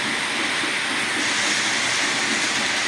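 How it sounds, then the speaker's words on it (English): Ambient train sound effects play through a small white Bluetooth speaker beside a Lionel Polar Express model train, giving a steady, even rushing rumble with no distinct whistles or pauses. "I'm Bluetoothing YouTube sound effects"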